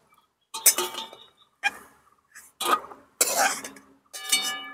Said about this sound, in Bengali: এবার আমি আর থালাতে তুলে নেব।